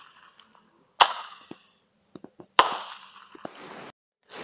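Small July 4 fireworks pop and crack nearby, two loud bangs followed by crackling bursts and a few lighter snaps, with brief hissing fizzes between them outdoors.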